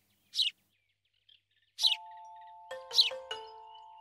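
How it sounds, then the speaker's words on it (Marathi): A cartoon sparrow gives three short, bright chirps spaced apart, the later ones followed by ringing bell-like tones that linger, all clear and close with no talking. "ती बघ चिमणी"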